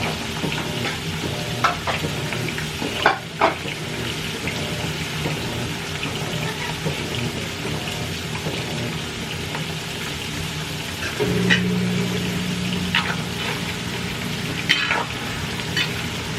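French fries sizzle in hot oil in a deep pan, a steady dense crackling hiss that runs throughout at close range, with occasional stirring clatters and a brief low hum partway through, no voices.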